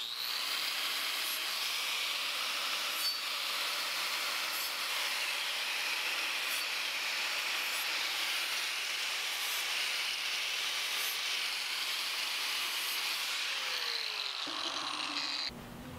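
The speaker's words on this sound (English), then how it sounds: "Using a fresh flap wheel makes pretty easy work of removing the paint off these wheels." An angle sander fitted with a fresh flap wheel grinds paint off steel wheels, a steady high-pitched whine with hissing abrasion that runs loud and continuous for about fifteen seconds before cutting off at the end.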